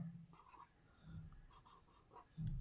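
Pen or marker scratching across a board or page while working out a calculus problem on partial derivatives of a triangle's area, quiet strokes with brief pauses, no voice.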